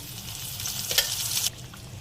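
A steady hiss of ground onion paste frying in hot oil for chutney, with a brief louder crackle and stirring in the middle before it settles back to a softer sizzle.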